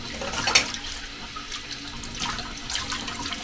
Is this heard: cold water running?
yes